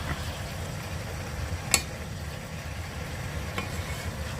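Minced beef with pickled bamboo shoots is stir-fried in a pan for holy basil stir-fry. A faint, steady sizzle runs throughout, broken by a sharp scrape of the utensil midway and a softer one later.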